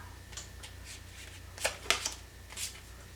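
Tarot cards shuffled by hand during a reading, a close soft series of papery riffles and flicks with a few louder snaps, quiet over a faint background hum and with no talking.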